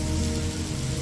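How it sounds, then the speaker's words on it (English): Rain falling on an island, a steady hiss of drops pattering on surfaces, constant and close with no break or voices. "And then we got caught in the rain, which it can rain on this island."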